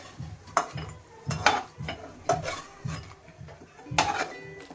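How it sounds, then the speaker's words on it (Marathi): Browned semolina for prasad sheera scraped out of an iron kadhai with a spoon: repeated rough scraping strokes against the metal, close and fairly loud, with no one speaking. "तर आता थोडंसं ब्राऊन झालेलं आहे, मी लगेच काढून घेणार आहे."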